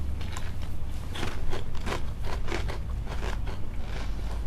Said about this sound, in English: I do try to turn my head away when I'm chewing.